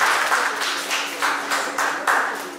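A small audience at an entrepreneurial pitch event claps in a loose, rhythmic pattern of distinct beats, fairly close and alone.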